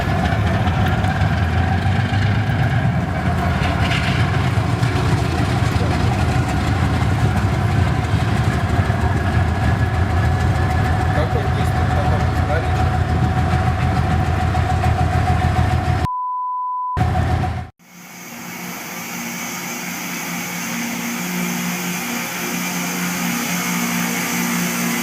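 A rail grinder train smoothing bumps and defects from railway tracks gives off a loud, continuous mechanical roar with a steady tonal hum, then a sudden cut to near silence and a quieter, different drone after.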